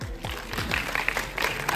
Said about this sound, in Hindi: बस तो फिर तालियां बजाओ.